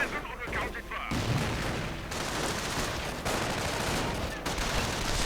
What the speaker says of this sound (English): Mortar keeps firing away.